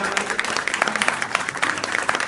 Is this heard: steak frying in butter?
no